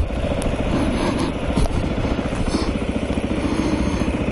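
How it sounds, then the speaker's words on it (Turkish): A Mondial RX3i Evo motorcycle engine runs steadily at idle with a low, pulsing rumble and occasional mechanical clatter, close by and continuous throughout. "Motor sesi dinleyelim bugün ya."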